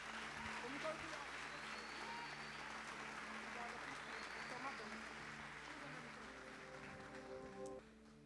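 A church congregation at a youth ministry anniversary service applauds to welcome a preacher, faint, dense clapping with sustained musical tones and some voices beneath, fading near the end.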